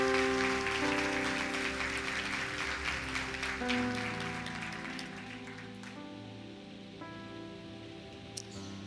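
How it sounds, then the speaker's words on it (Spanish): A church congregation applauds the Lord with a steady, rain-like patter of many hands. It starts fairly strong and slowly fades, with a sustained tone ringing beneath it. "Démosle un aplauso al Señor."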